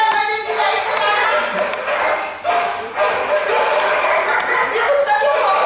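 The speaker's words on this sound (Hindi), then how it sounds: "ये कुत्ता क्यों भौंक रहा है?" Dog barking during a Hindi stage play at Ravindra Manch in Jaipur, a string of loud, close yips and barks repeating through the whole stretch, with a voice talking alongside.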